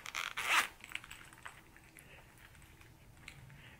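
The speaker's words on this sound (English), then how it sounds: "It's got the zipper. I'm gonna go ahead and open it." A quick zipper pull rasps near the start as a women's wallet is opened, followed by faint rustling and small handling noises.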